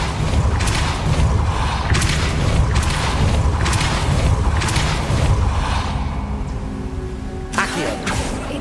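Depulso force spell cast in Hogwarts Legacy on PC: a steady run of deep, booming thumps about once a second over a dense, rumbling game backdrop, ending in a sharper whooshing hit and clatter.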